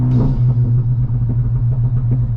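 A car exhaust with an iE adjustable crackle tune and a DSG gearbox rumbles loudly up close. Faint irregular let-off pops and crackles break through the steady engine drone as the throttle lifts.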